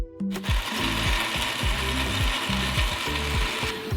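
Melon pulp whirring in a kitchen blender, a loud steady grinding drone with repeated rhythmic pulses as the blades chop the fruit, close and continuous, with no talking.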